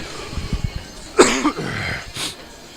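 Soft rustling and clicks, then a sharp close cough followed by a second, fainter cough over low background hiss.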